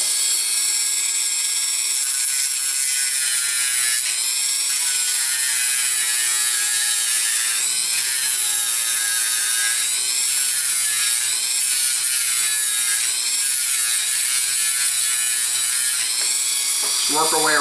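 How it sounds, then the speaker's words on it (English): A small power sander runs against a plastic mouthwash cap being shaped into an R2-D2 holoprojector cone, giving a steady, loud, close, high-pitched whir that holds throughout with slight wavering as pressure changes. "Put in our little sander."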